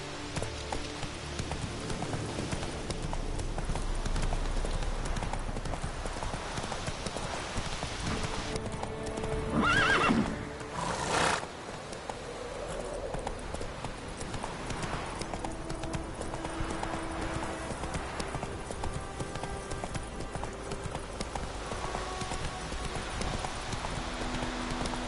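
Roach the horse galloping in The Witcher 3, rapid rhythmic hoof clip-clops throughout with a loud neigh midway, over a rain-like ambient wash and game music.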